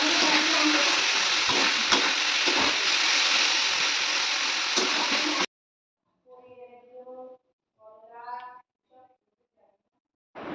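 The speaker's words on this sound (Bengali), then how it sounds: "তো পেঁয়াজটা একটু ভালোভাবে ভেজে নেব।" Onions and bitter gourd fry and get stirred in a pan for Bengali karela chorchori, a loud steady sizzle for about five seconds that stops abruptly, followed by a few short voiced sounds.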